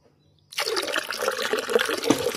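Water pours into a toilet bowl in a sudden splashing gush after a moment of quiet, running continuously with bubbling and sloshing.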